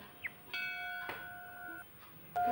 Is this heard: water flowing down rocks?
no